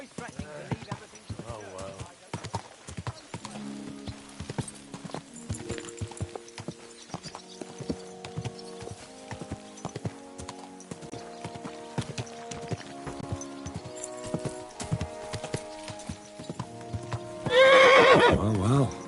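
Steady clip-clop of horse hooves under game music in Kingdom Come: Deliverance II, with a loud horse whinny bursting out near the end.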